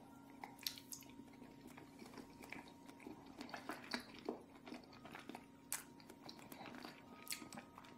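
Someone eating Castello Caraway Havarti cheese close to the microphone, with soft repeated chewing and moist mouth clicks over about eight seconds, quiet and without talking.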